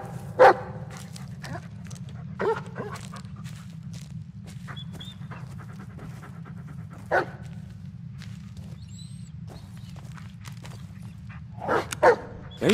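In the Blair Witch video game, a dog gives a few scattered short yips and whimpers over a steady low rumble of forest ambience, with soft rustling between the louder bursts.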